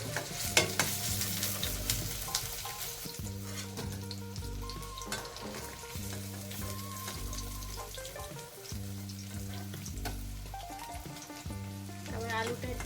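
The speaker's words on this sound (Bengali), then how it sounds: "বেশি করে একটু ভেজে নেবো পনিরটা" Paneer cubes sizzling in hot oil in a pan, a steady frying crackle with stirring, heard under background music.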